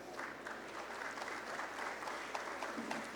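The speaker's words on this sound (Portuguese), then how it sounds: "Uma salva de palmas, por gentileza" An audience at a Brazilian public event with state transport and infrastructure officials claps steadily, a dense sustained round of applause with no pauses.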